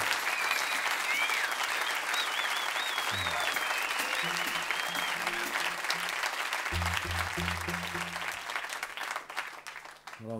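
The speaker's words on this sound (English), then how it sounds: "Give these boys one round of applause, please." A concert crowd applauds a live band at a show in Sydney, with steady, sustained clapping and some cheering. Faint whistles rise early, and low instrument tones enter partway through.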